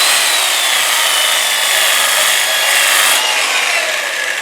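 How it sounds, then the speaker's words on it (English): A power sander works over a turned wooden bowl, giving a loud, continuous bright hiss and rasp that scarcely wavers, close by and alone with no speech. "we're done with power sanding"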